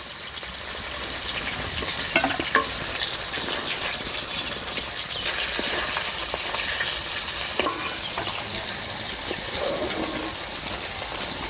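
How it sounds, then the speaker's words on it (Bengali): Rupchanda fish fry in hot oil in a pan, giving a steady, dense sizzle that runs unbroken throughout, with a few faint clicks and shifts in the crackle. "এরকম লাল লাল করে ভেজে নিলে আর মশমুশ হইতেছে"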